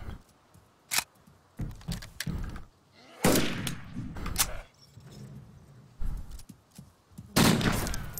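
Gunfire in the video game DayZ Standalone during a battle at a military tent city: several loud, sharp bursts of shots in irregular clusters, some close together, with a player's voice talking between them.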